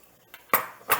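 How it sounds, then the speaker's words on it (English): A fork scrapes and clinks against a bowl, mushing butter into a sweet potato casserole topping, with a few short separate metallic taps and scrapes, close and fairly quiet. "I'm using a fork. That way I can kind of mush my butter into the topping."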